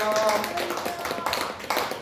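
A church congregation claps together during a New Year worship service at a Korean church. The applause is fairly soft and sustained, and a voice speaks over it at the start.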